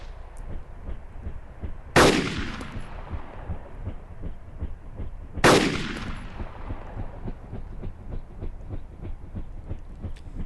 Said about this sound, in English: First shot missed, second one hit the chest.